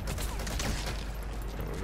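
Gunfire from a stealth-action game, Metal Gear Solid V: The Phantom Pain, with a dense, steady wash of shots and mechanical clatter running continuously through a short burst, no clear gaps between reports.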